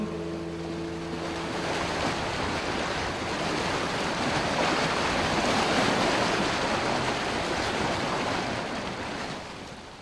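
A flat-bottom boat moves through Hurricane Floyd floodwater along the Tar River, a continuous loud wash of water and wind rushing past with a low motor hum early on and no speech.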